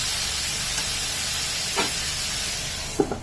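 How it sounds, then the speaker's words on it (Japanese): Onions and tomatoes frying for Japanese-style curry give a steady, close sizzle in the pan, with two brief scraping stirs near the middle and end. "で、軽くかき混ぜて"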